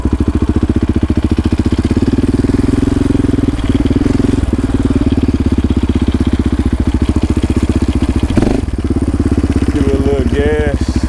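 A quad ATV engine runs steadily up close in second gear, a continuous buzzing drone that holds through the clip, dipping briefly near the end as the rider eases off.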